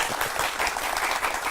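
An audience at a Hindi lecture on Indian versus Western thought claps together, a fairly steady, moderately loud patter of many hands that carries on evenly for the whole stretch.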